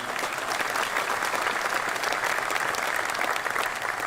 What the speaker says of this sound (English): Please join me once again to give Colleen another round of applause for her leadership.